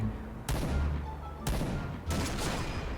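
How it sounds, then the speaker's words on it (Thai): Sniper rifle shots in the shooter game Point Blank: three loud, sharp reports spaced about a second apart, each with a short ringing tail. "ยิงได้ทุกรูปแบบทุกมุมครับ สไนด์กระบอกนี้"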